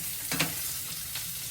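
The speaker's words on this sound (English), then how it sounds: "scrape the bottom of this pan to get a lot of the fond up, as well as stir these mushrooms in" Mushrooms sizzle steadily in an oiled pan while a utensil scrapes and stirs them in a few short strokes, close and moderately loud with no talking.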